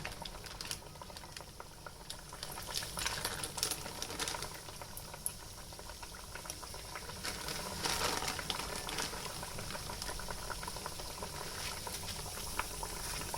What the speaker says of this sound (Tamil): இப்போ இதை நம்ம ஒவ்வொன்றா எடுத்து இதை நம்ம போட்டுக்கலாம் பாருங்கள் இந்த மாதிரி குட்டி குட்டி பபுள்ஸாக வர அளவுக்கு தான் ஆயில் ஹீட்டாக இருக்கணும்